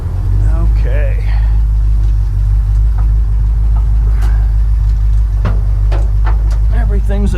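A 1957 Dodge Power Wagon truck's engine drones in a steady, loud low rumble while driving, with people talking over it throughout.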